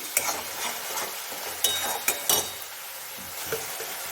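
A spoon stirs a prawn fritter curry in a pan over steady frying sizzle, scraping in several distinct strokes with an occasional light clink, close and fairly quiet.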